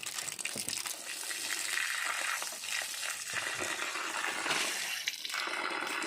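Running water rinses something off in a continuous close gushing splash. It swells and eases slightly as the flow is moved around, with no talk over it.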